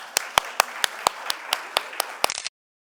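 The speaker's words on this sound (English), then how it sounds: "Round of applause" Scattered hands clap at a fiber arts presentation, a sparse, evenly spaced handful of sharp claps from a small group, ending abruptly in silence.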